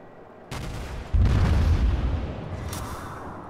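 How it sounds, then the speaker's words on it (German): A warship's naval guns fire in World of Warships: one sharp report, then a heavier, booming salvo that rolls out and slowly decays, loud and close with no talking over it. "Ich könnte mal einfach ein bisschen in die Richtung darüber schießen."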